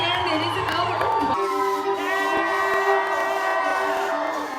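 Audience at a lumberjack show on an Alaska cruise excursion cheering and whooping, a loud crowd roar with a sustained tonal whistle or siren-like sound running through it.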